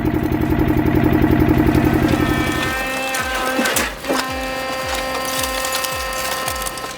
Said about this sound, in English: The deep rumble of the engine as it powers up, the steady mechanical hum grows louder